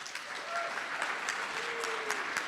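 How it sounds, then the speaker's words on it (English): Scattered audience clapping at a plenary session of the LSST 2017 conference, fairly steady and moderately loud throughout, with faint background voices mixed in. "Maybe like clap for everybody collectively."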